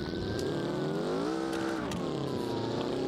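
A car engine revs hard and continuously in a downhill racing video game, its pitch sweeping up and down with loud, steady harmonic whine and brief clunks, no talk.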